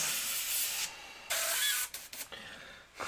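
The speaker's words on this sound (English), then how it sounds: "Now you can see if my airbrush is actually going to work or not." Airbrush spraying paint in short bursts, a close, airy hiss that cuts off and restarts several times before trailing into a few brief sputtering puffs.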